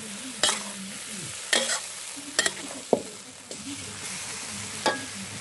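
Morning glory stir-fried with oyster sauce and mushrooms in a hot pan. About five sharp spatula scrapes and tosses cut through a continuous sizzle.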